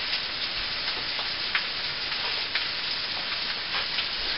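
Hash browned potatoes fry in a skillet with a steady, soft, even sizzle and faint crackles throughout, no voices.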